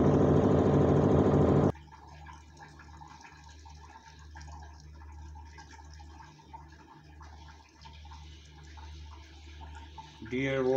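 Haier automatic washing machine spinning a load with water: a loud whirring churn cuts off abruptly, giving way to a low steady motor hum with soft sloshing and faint water movement, then a brief rising whine at the end.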